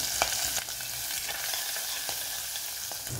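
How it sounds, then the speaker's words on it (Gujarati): Mustard seeds, cumin, asafoetida, a cinnamon piece, green chillies and curry leaves crackling in hot oil, a steady dense sizzle with sharp popping bursts throughout and no voices. "તેલ ગરમ થાય એટલે એમાં 1 નાની ચમચી રાઈ, જીરું, 1/4 ચમચી હિંગ, તજનો ટુકડો, લીલા મરચાં અને મીઠો લીમડો છે।"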